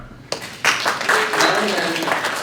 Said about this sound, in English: a huge round of applause to Dominique Kwon